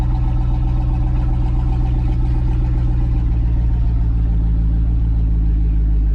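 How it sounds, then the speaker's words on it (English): A race car engine idling with a steady low rumble and a slight rise in pitch near the end, close and loud with no talk. "And if you need to, you can give it a tiny little rev"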